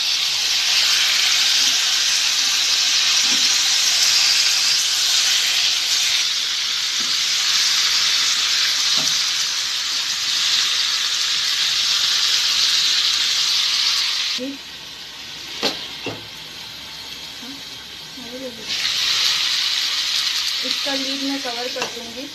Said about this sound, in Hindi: इसे हाई फ्लेम पर पकाऊंगी थोड़ी देर।